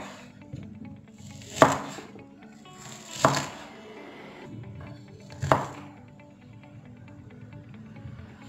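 Knife chopping onion finely on a board while preparing homemade powdered broth, three distinct sharp chops spaced a couple of seconds apart over quiet kitchen background.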